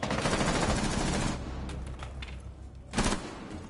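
Rapid automatic gunfire in Rainbow Six Siege, a loud sustained burst of close shots followed by scattered single reports and another short burst, with no talk.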